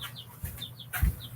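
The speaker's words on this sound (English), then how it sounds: "We got baby chicks" Baby chicks make high, thin peeping calls in a short series of repeated chirps, close by and fairly clear, with a few soft bumps and handling noises in between.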